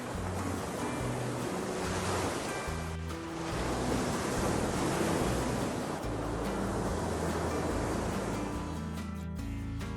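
Atlantic surf along the Portuguese coast, viewed from a high clifftop site, rolls in as a steady, loud, broadband roar of breaking waves with gusty wind, continuous for the whole stretch and with no voices.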